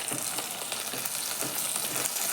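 Vegetables sautéing in a hot pan give off a steady, bright sizzle, with soft periodic scrapes and shuffles as they are stirred.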